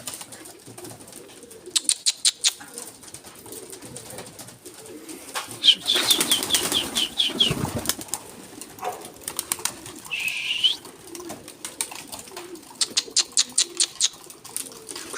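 Pigeons flap their wings in bursts while flying close by, with soft coos and scattered bird calls under steady outdoor ambience.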